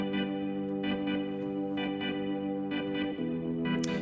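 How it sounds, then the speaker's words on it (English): Two vintage-style organs layered together for a Halloween horror video game track, sustained chords with effects-laden, slightly distorted chorus tone, shifting in short rhythmic pulses and changing chord near the end, no talk. "So I have two organs going on at the same time,"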